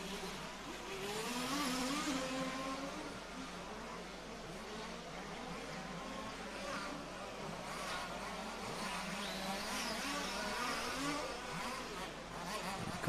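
Large-scale off-road RC cars race around a dirt track, braking hard into a turn, their high-pitched buzzing motors forming a steady insect-like whine at moderate distance throughout.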